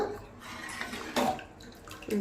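Water being poured into tiffin sambar simmering in a pot, a short soft splashing trickle heard close by in a quiet kitchen, with brief bursts of louder pouring.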